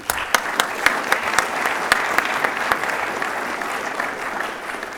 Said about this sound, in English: Can we give our speakers one more round of applause?